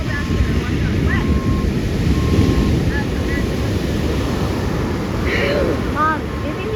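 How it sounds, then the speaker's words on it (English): Big ocean surf rolls and crashes onto the beach at Aliso, a loud, continuous roar mixed with heavy wind buffeting the microphone, with faint voices in the background. "do you think these waves are huge?"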